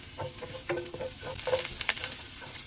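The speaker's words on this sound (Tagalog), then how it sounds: "Sa isang pan ay magpainit na nga po tayo ng mantika at igisa na natin ang ating luya" Ginger sizzles in hot oil in a pan as it is sautéed and stirred, a soft continuous crackle with light stirring scrapes, close and moderately quiet, with no talk.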